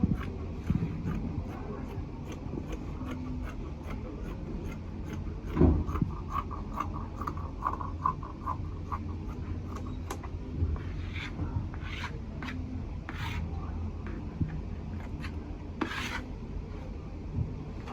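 Scissors or a cutter working through abaya dress fabric at a sewing table, soft rasping and rubbing strokes with sharp little snips, close and quiet, steady over the length of the cut.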